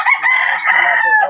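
A rooster crows once, loud and close, a single drawn-out cock-a-doodle-doo with a rising start and a long sustained tail.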